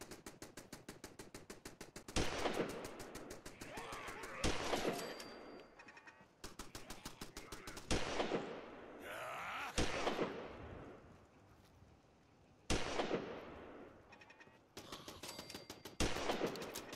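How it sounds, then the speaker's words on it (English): Gunfire from a newly equipped gun in a zombie survival video game, loud rapid bursts of shots repeating in several volleys with short gaps between them. "Let us bring out the new gun."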